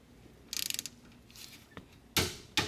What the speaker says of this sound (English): as you can hear, the torque wrench just clicked